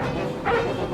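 A cartoon dog gives a single short yelp in the middle of a dense, busy soundtrack, loud and brief.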